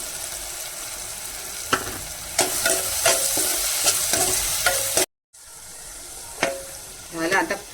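Frying tomato and goat liver hiss loudly in a pan as Malvani masala is stirred in, with repeated scraping strokes and clanks of a spoon against the pan and a brief dropout midway.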